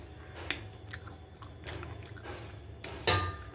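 Mushroom bhaji, homemade and cooked without spices, being chewed close up, with soft crunchy bites coming unevenly over a few seconds and a louder crunch near the end, no talking.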